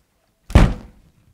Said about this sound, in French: Et ferme la porte, hein?